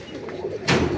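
Domestic pigeons on a rooftop loft, a brief soft low coo close by amid background noise.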